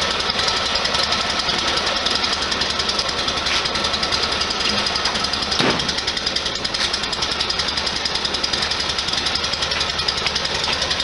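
Air-cooled 1973 VW Super Beetle engine with an Empi Accu-Fire ignition running loud and close, a harsh rapid steady chatter that holds without pause, with no talking.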